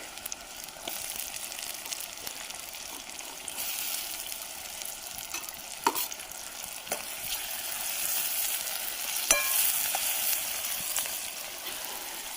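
Chopped onion and tomato fry in a pan over an outdoor fire in a forest, a steady soft sizzle with occasional stirring clicks and scrapes.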